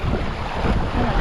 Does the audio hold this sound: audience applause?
no